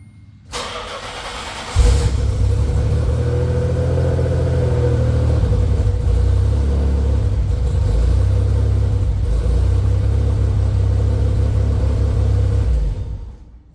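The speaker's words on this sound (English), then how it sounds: "Starter so quiet, it just actually sounds weird." A Nissan Z31 engine cranks over briefly on a quiet Z32 starter, then catches and settles into a steady, loud, close-up idle rumble that runs until the clip cuts off.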